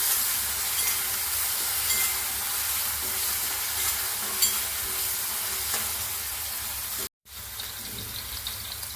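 Chopped onion sautéing in a pan for masala kanda kurdai, giving a steady close sizzle with stirring scrapes throughout and a brief silent break near the end.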